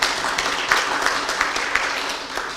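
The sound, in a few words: audience applauding the county environment director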